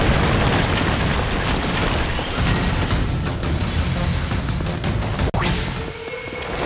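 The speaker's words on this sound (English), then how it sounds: "Yurik, hit that pillar with your magic!" A magic attack bursts against a stone pillar during a battle in the video game The Last Story, a loud booming explosion with one sharp crack near the end, set against dense continuous game noise.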